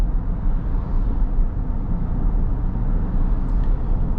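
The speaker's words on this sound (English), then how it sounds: "just the cars passing us." Road noise inside a 2024 Kia Carnival at speed on a paved road, a steady low rumble with passing cars swelling faintly past, no talking.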